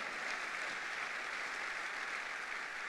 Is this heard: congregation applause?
yes